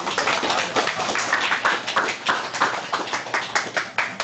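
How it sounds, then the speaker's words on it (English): A small meetup audience at a Python talk gives a round of applause, a modest group of distinct hand claps with audible individual claps in a loose rhythm, close and fairly loud, lasting about four seconds. "give him a round of applause"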